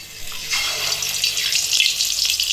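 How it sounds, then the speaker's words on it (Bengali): Cauliflower fritters coated in gram flour batter fry in hot oil with a steady, close, loud sizzling hiss that swells slightly as more pieces go in. "গরম তেলের মধ্যে পকোড়াগুলো একটা একটা করে ছেড়ে দেব"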